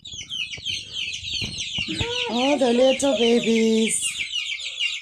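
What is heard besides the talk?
chickens clucking, Brahma, Orpington and Australorp breeds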